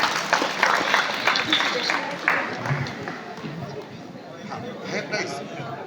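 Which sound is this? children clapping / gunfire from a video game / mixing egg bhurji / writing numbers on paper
children clapping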